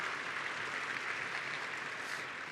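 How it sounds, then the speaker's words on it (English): Convention audience at a 2016 NDP party gathering applauding, a dense steady wash of many hands clapping at once, loud and sustained without a break. "Yes, you can applaud."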